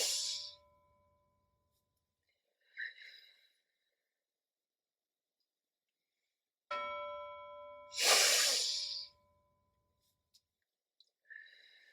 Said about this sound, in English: So you can listen for a bell.